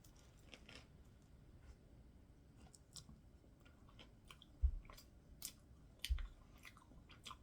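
Someone chewing food during a casual meal of refried beans, cheese and peanut butter, with quiet, irregular mouth clicks and soft crunches, close and faint, and two louder knocks partway through; no talking.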